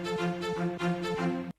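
A high cello layer and resampled low strings play together in a short passage, a deep pulsing low note repeating under brighter bowed tones, full and dense before stopping abruptly.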